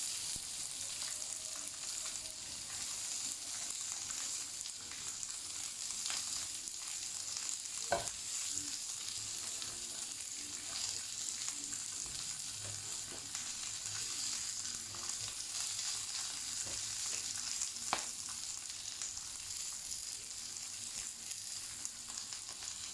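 Chicken jalfrezi with garam masala, turmeric, cumin and coriander frying in a hot pan, a steady close sizzle with occasional stirring clicks and scrapes.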